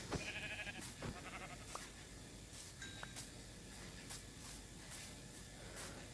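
Sheep bleating in the video game Minecraft, several short calls spread across a steady background hiss, fairly quiet and with no talking.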